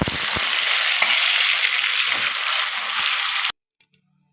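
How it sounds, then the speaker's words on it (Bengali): Fish sizzling loudly in hot mustard oil in a wok, a dense steady crackle and spatter lasting several seconds with a few stirring knocks, then cutting off to near silence with two faint clicks. "কড়ার তেল গরম হয়ে গেছে তো আমি একে একে মাছগুলো আমি ছেড়ে ভেজে নেব"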